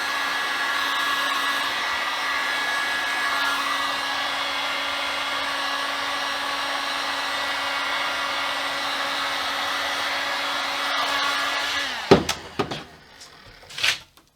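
Heat gun warming binding on a guitar neck, a steady loud blowing hum that runs for about twelve seconds and then cuts off, followed by a few handling clicks and knocks.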